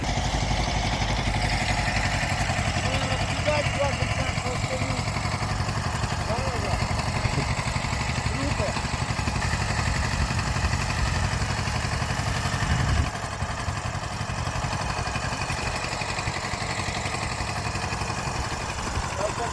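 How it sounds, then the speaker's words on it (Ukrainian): A Kubota tractor engine drones and clatters throughout at close range during sowing, with a constant low rumble and no pauses, its tone dipping slightly near the end. "трактор їде"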